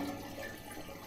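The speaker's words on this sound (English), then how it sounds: "we'll put some more diesel in the tank" Diesel fuel pours steadily into a backhoe's fuel tank with a soft, continuous liquid splashing and trickling, faint and close, with no voices.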